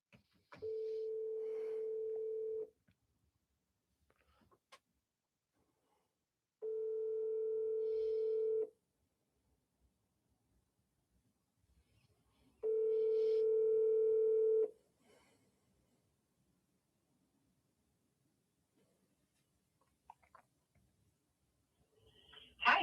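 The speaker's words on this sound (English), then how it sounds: "I'm calling the agent now." A telephone ringback tone sounds three times while an outgoing call to an agent rings out, each long steady buzz lasting about two seconds and separated by roughly four seconds of silence.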